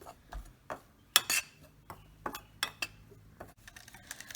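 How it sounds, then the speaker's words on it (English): Chocolate cake batter mixed in a bowl with a utensil: close, quiet scraping and stirring strokes broken by sharp clinks and taps against the bowl, irregular and without talking. "And now we're mixing everything together."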